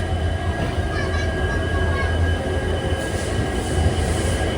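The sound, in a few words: Poorna Express train at Castle Rock station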